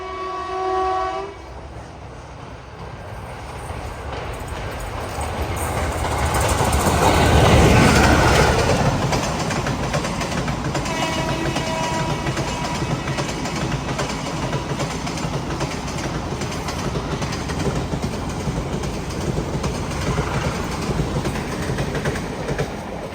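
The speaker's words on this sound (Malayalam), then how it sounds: "ഉടുപ്പി റെയിൽവേ സ്റ്റേഷനിലേക്ക് ഇതാ നമ്മുടെ ട്രെയിൻ എത്തിക്കൊണ്ടിരിക്കുകയാണ്." The Matsyagandha Express pulls into Udupi railway station, opening with a horn blast and then a swelling rumble and rattle of wagons rolling past close by, steady and loud.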